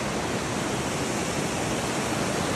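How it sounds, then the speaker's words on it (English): An active river rushing through a narrow channel along a rock wall on its way to Laurel Falls on the Appalachian Trail, a steady, loud wash of white water with no voices. "the river's flowing down to Laurel Falls, which I'm about to go see in a second"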